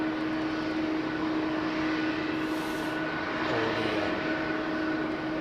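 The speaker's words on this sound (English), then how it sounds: "Now listen to these engines spool up, folks." Airliner jet engines at London Heathrow spool up in a steady, loud roar with a constant hum underneath and a faint rising whine, heard continuously without talk.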